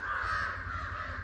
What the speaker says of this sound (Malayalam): ഈ കാക്കക്ക് ക്ഷമല്ല.